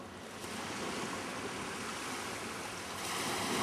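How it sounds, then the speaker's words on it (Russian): Waves of the Andaman Sea wash steadily on the shore at Koh Lanta, Thailand, a soft, continuous surf hiss mixed with light wind on the microphone, with no voices. "Вот само Андаманское море."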